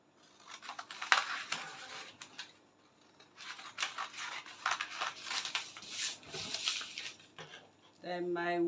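Scissors snip and slide through fabric for a double cape in bursts of crisp, rustling cuts, stopping and starting again, with a voice speaking near the end.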